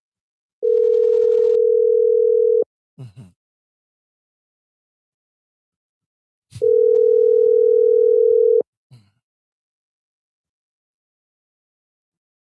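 A phone line's steady tone sounds twice while a call is placed, each a long flat electronic tone lasting about two seconds, separated by silence, with a brief murmured voice after each.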